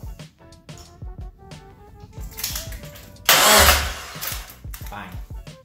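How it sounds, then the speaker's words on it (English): A Locost 7 kit car engine cranking with a rapid rhythmic starter chug, then catching and bursting into a loud roar before settling to a rough idle, close by, with a person speaking over it. "So there you go, one cranking engine."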